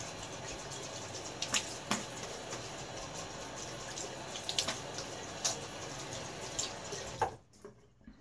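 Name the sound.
rinsing razor in water while shaving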